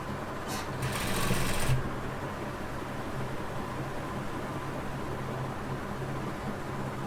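An electric sewing machine stitches baby frock fabric in a short, fast whirring burst, then falls to a quiet room hum.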